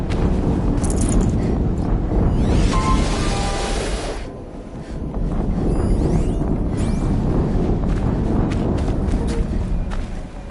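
Explosion in the video game Horizon Zero Dawn: a loud, broad rumbling roar that swells and fades, then builds again, with crackling debris over a dense noisy backdrop.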